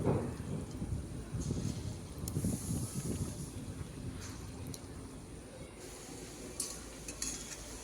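Lentil fritters (dal bora) frying in hot oil, a soft continuous sizzle and crackle with occasional bubbling bursts, fairly quiet and close, without talk.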